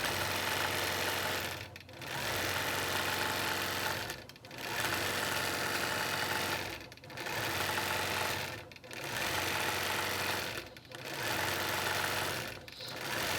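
Sewing machine stitching in the ditch of a quilt, a steady close mechanical whir running in even bursts of about two seconds, each broken by a brief pause, six stretches in all.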